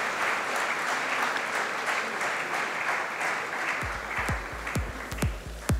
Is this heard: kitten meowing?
no